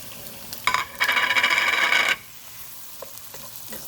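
Tomato tipped into a hot pan and stirred, giving a sudden close sizzle that flares for about a second and a half and then dies down to faint scraping.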